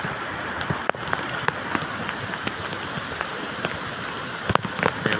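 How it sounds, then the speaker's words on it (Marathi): First monsoon rain patters steadily at Kalvi Bandar near Vengurla on the Konkan coast, a soft, even hiss of drops with occasional sharper taps and no voices. "पाऊस बघा चालू झाला आहे."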